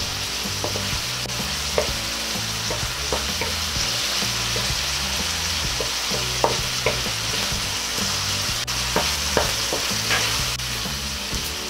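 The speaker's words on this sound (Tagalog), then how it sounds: "Medyo palalambutin ko lang po ng konti itong ating kamatis" Tomatoes stirred and sautéed in a pan for adobong kangkong, a steady close sizzle with repeated scraping and clinking of the spoon against the pan.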